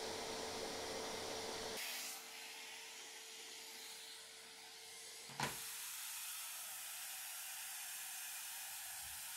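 A Henry vacuum cleaner with a combi floor nozzle runs steadily, a faint whooshing drone that shifts pitch as the nozzle moves, with a short knock partway through.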